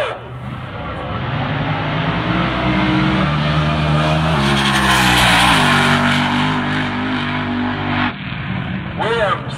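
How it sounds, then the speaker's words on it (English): Drag racing cars, one of them a Fiat, launch and roar down the strip at Tucson Dragway, a loud sustained engine howl with rising revs and tire noise that builds and then drops off near the end. "So it's Middlebrook in the Fiat in the right lane"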